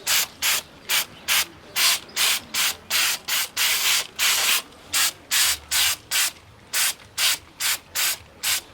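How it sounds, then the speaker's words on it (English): Short bursts of aerosol spray hiss out in a quick, regular rhythm as outdoor speakers are coated for weatherproofing, about two dozen close, loud sprays with brief gaps between them. "right now we're just going to spray these 16"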